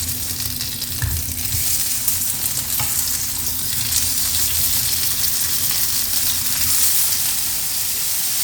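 Burger filling frying in a pan, a dense, steady sizzle that hisses close and fairly loud for several seconds, with occasional stirring scrapes and no voices.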